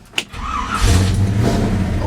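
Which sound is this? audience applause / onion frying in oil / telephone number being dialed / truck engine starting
truck engine starting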